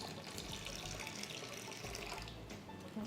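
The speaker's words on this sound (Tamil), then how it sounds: "ஸோ தட் கொஞ்சோண்டு வாட்டர் வந்துட்டு ஆட் பண்ணிக்கலாம்" Water poured into a pan of cauliflower and fox nut (phool makhana) curry, a steady, fairly faint rushing splash that runs continuously throughout with no talking.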